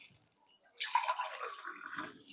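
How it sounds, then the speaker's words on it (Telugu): About a glass and a half of water poured from a glass into a cooking pot for a rice-flour snack: a brief quiet start, then a continuous splashing pour lasting under two seconds, close and fairly loud. "గ్లాసున్నర నీళ్లు పోస్తున్నాను"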